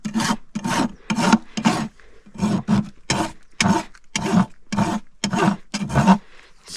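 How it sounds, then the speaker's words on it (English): Fine side of a farrier's rasp filing a flare on the outside quarter of a horse hoof, about a dozen close, steady scraping strokes in an even back-and-forth rhythm. "fine side of my rasp"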